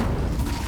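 The Incendio fire spell bursts in Hogwarts Legacy as a brief, dense roaring rumble, loud and close, with a low boom and no voices.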